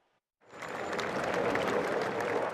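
Thousands of people outside Old Trafford stadium applaud as a funeral cortege passes, and the dense crowd clapping swells in after a short silence and holds steady.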